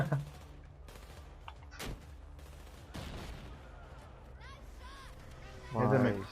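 A single sharp gunshot rings out in a video game, a brief loud crack standing out from steady game noise, with people talking and laughing around it.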